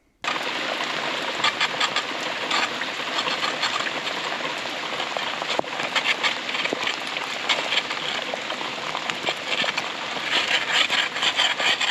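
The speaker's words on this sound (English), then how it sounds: "Here comes the rain just as I'm scraping the grease off of the manhole." Rain falls steadily during sewer manhole replacement work, a constant dense patter on surfaces that holds at an even level throughout, with no talking.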